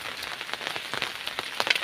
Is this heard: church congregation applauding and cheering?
no